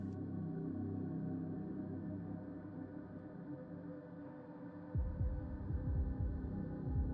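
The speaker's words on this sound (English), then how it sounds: "heart pounding" A pounding heartbeat effect: a deep, steady throbbing pulse under a low hum, growing heavier and more forceful toward the end.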